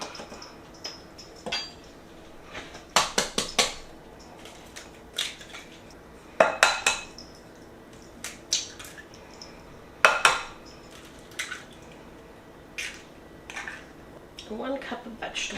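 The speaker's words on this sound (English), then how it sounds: "beat the eggs, oil, and sugar and vanilla together in a separate large bowl" Eggs, oil, sugar and vanilla being beaten together in a large bowl, with repeated close clinks and scrapes of utensil against the bowl in uneven bursts, mostly alone.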